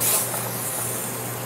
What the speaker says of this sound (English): Spray down your seals because you're going to have the most dirt there.